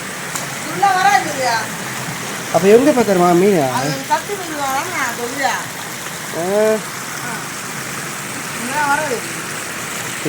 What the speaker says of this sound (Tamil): தண்ணி விழுந்துட்டுருக்கு